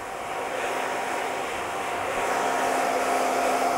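Hair dryer drying a freshly cut men's side part haircut with a brush, a steady close whooshing motor roar held for several seconds with no talk.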